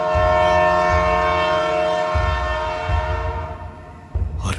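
A local train in Bihar sounds a loud, sustained horn as it rolls past close by, with rhythmic low wheel rumble and clatter under the blaring tone, then a brief sharp burst at the end.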